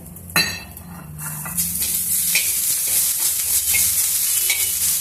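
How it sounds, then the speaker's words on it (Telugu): Curry leaves and coriander frying in a pan for pandu mirchi tomato chutney, a bright loud sizzle opening with a sharp utensil knock, then steady crackling with periodic stirring scrapes. "కరివేపాకు కూడా కొంచెం వేయించుకున్నాము"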